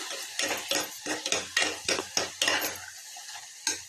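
Ginger and garlic being stirred into vegetable biryani in a pan, a quick run of scraping, clinking spoon strokes with light frying sizzle, close and steady, with no talking.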